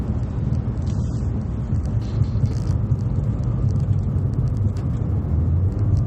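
A 2014 Buick Encore subcompact crossover rounding a hairpin turn, its engine and road noise forming a steady, loud low rumble from inside the cabin with no pauses.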